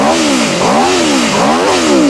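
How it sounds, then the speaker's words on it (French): A V4 motorcycle engine, all original, revving loud and close, its pitch swelling and dropping in repeated throttle blips with a rough mechanical edge. "et là, t'as un V4. Donc le son est complètement différent et le caractère moteur aussi."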